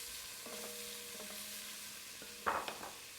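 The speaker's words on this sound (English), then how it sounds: "Next, I'm going in with some minced garlic. Fry that for about 10 seconds." Minced garlic frying in a pan for a pot roast sauce, a soft continuous sizzle with a couple of louder scraping stir strokes near the end, close and without talk.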